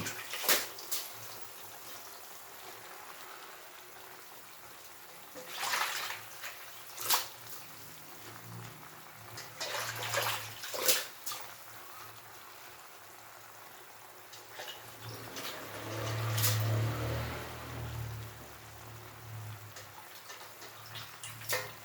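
A pot of coconut milk fish stew boils with soft bubbling and intermittent splashy, clattering bursts, moderately close and with no talk over it.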